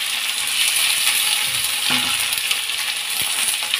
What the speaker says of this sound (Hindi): हम प्याज डाल रहे हैं